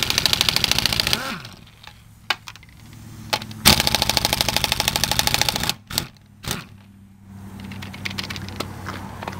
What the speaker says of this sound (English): You can do this with a tire iron, but impact makes it so much faster.